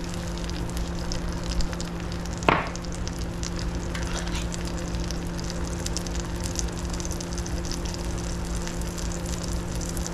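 Eggs fry in a nonstick pan, salted and peppered as they cook, with a continuous close sizzle and crackle, a low steady hum beneath, and one sharp clank partway through.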